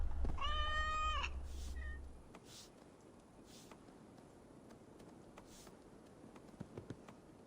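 A cat meows clearly in Assassin's Creed Valhalla: one drawn-out, harmonic meow near the start over a low rumble, then a brief second mew, with quiet game ambience and soft taps afterward.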